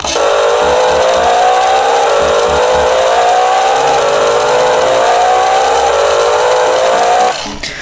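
A CXD D12 RC car plays its electronic engine sound effect, a loud buzzy revving drone with rising pitch sweeps that cuts off abruptly near the end.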